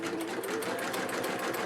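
A Brother PE-180D Disney embroidery machine runs with a fast, even mechanical stitching rattle and a steady motor hum, close by, quiet, and with nobody talking.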